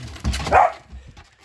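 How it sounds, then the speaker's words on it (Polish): A dog gives one or two short, close barks mixed with excited snuffling and whining, loud and brief. "Szczeka cały czas i gada."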